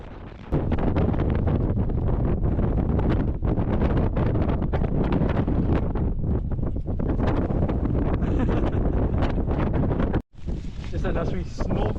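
Strong wind blasting across the microphone high in the Scottish mountains, a loud, constant roar and buffeting that lasts throughout with a brief sudden drop near the end, and no talking over it.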